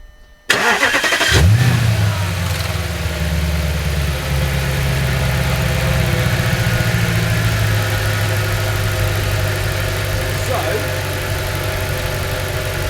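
An Audi S5 4.2 V8 car engine cranks and fires up with a loud roar, then settles into a steady, rumbling idle that continues evenly to the end.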